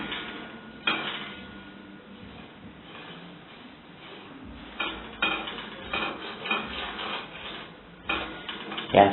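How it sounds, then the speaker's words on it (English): Food being stirred in a cooking pot while crunchy fried omena (dagaa) is prepared, giving scattered metallic scrapes and clinks against the pot, soft and intermittent, with a few sharper knocks and a voice talking now and then. "give it a stir, a little bit of stir"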